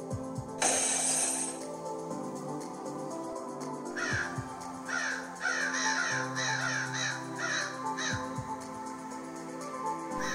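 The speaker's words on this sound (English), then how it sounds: "those were crows that flew into the tree" Several crows caw in short harsh bursts, some overlapping, over a steady low background hum, with a brief noisy burst near the start.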